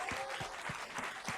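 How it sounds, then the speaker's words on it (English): Audience applause at the closing ceremony of Houston Energy and Climate Week, a steady wash of many hands clapping at moderate volume throughout the brief stretch, with no talk over it. "Let's get an applause for that one."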